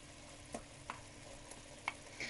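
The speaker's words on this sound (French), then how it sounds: "Et je vais mélanger" A spoon stirs harira, a Moroccan oat soup, in a pot, giving a few soft scraping knocks at intervals over a low simmering sizzle, quiet and close.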